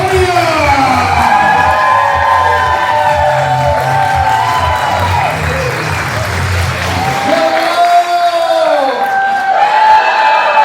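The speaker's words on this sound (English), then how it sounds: "Ladies and gentlemen, give a huge round of applause to the Psychic Soulmates, Anthem and Aria!" A crowd applauds and cheers loudly, clapping filling the space with whoops and shouts rising over it, steady for the whole stretch.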